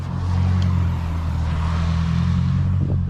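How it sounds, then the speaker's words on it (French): An ugly-looking car drives past on a snowy day in Queenstown, its engine giving a loud, steady, close rumble that holds throughout with a slight rise in the middle, and no one talking. "elle fait un beau bruit pour dire comment elle est hideuse cette bagnole"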